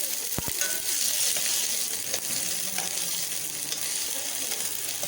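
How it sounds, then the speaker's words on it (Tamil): Chopped small onions (shallots) sautéing in a pan for a dried-fish curry, giving a steady, close hiss of frying with a few sharp clinks of a utensil near the start. "கொஞ்சம் சின்ன வெங்காயத்தை கட் பண்ணி போட்டுடலாம் ஃப்ரெண்ட்ஸ். போட்டு நல்லா வணக்கிட்டுருங்க."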